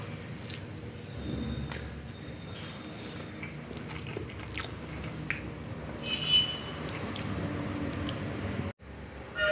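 Someone eats fried leftover rice with steady close chewing and biting sounds, soft wet squishes, and a few small clinks, all fairly quiet and without talk.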